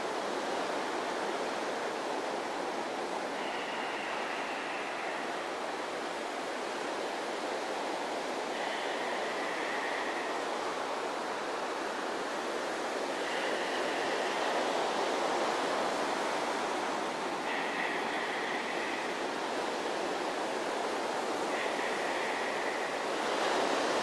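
Steady rushing breath drawn through a constricted throat, with the diaphragm moving in and out. The ocean-like hiss is broad and continuous, with faint periodic raspy swells repeating every few seconds, close and unaccompanied by talk.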